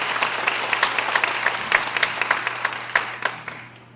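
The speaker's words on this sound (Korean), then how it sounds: "진심으로 감사의 박수를 드립시다." Enthusiastic applause from a room full of people at a church worship service closing a pastors' seminary, steady clapping that gradually tapers off toward the end.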